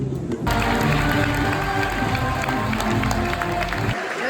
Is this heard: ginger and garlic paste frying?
no